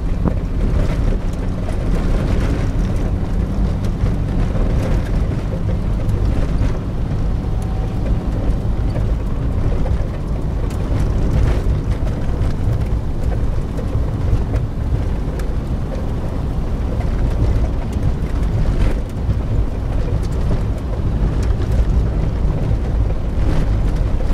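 A loud, constant low rumble of a running boat engine on the way to the Mann River drones without pause, mixed with wind buffeting the microphone.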